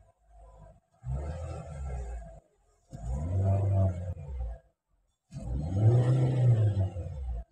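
A 2018 Chevrolet Spark with a CVT transmission fault revs in three separate bursts. Each rise climbs and holds with a droning engine note, close by, with brief quiet between.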